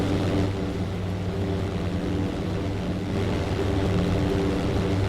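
Propeller aircraft engines in the European Air War flight game, a squadron of fighters droning in a steady, dense, loud hum with throbbing tonal layers, continuous and unbroken throughout.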